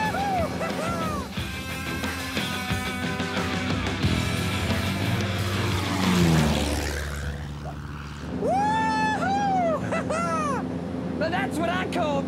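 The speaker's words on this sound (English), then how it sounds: "Get that plane on the ground!" A propeller plane in an animated series drones past, its engine hum and chopping roar swelling and fading under character voices and squeaky cartoon effects.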